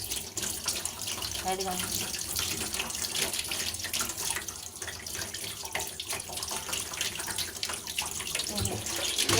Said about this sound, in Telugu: అసలు నీళ్ళు కూడా మామూలుగా వాటర్ వైట్గా వచ్చేస్తున్నాయి.